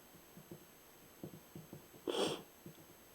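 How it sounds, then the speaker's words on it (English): A person sniffles repeatedly indoors while wood burning an Art Nouveau border, short quiet nasal sniffs in an irregular series, followed by one louder, breathy sniff or sneeze-like burst near the end. "I get the sniffles."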